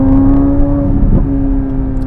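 A Corvette C8 Z06 in Z mode gives off a loud, steady engine drone from inside the car over a couple of seconds, with a slight swell near the middle.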